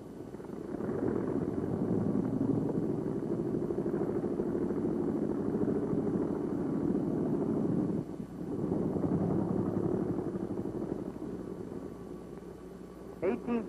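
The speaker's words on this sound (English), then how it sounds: "Plane on a catapult." US Navy plane on a 1944 aircraft carrier, propeller engine droning steadily and loudly before the catapult launch, with a short dip in the noise midway.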